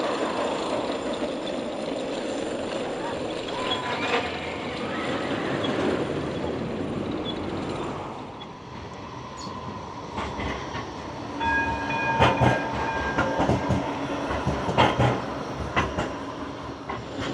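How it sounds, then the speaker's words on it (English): Blackpool Pleasure Beach's Big One roller coaster on its lift hill and first drop: a continuous mechanical rumble and rattle that swells into louder clattering and sharp metallic clanks, heard from a moderate distance without talk. "It makes a heck of a noise, that first drop, the lift hill."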